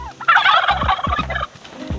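White turkeys gobbling up close, a loud rattling call with a few shorter gobbles trailing after it.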